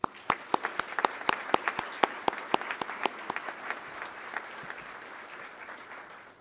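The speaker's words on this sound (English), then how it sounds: "I would appreciate it if you join me in a round of applause for them." Audience applause at an undergraduate pilot training graduation ceremony, a dense round of clapping with sharp individual claps at first that thins out and fades over several seconds.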